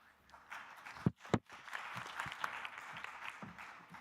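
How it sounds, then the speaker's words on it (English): An audience at a regional high-level meeting on scaling climate smart agriculture gives soft, steady applause from a moderate distance, with a couple of sharper thumps early on. "Let's give a better round of applause."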